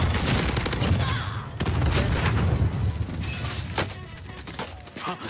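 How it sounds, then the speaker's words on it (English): Rapid gunfire from a Warzone match, dense bursts of shots and impacts layered over a constant game backdrop, loud and sustained throughout with a few sharper cracks standing out. "He's shooting you through the thing."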